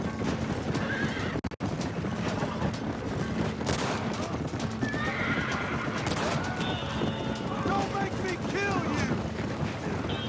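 Steady clip-clop of galloping hooves with horse whinnies in Red Dead Redemption, set among busy game action, a couple of sharp bangs and background voices.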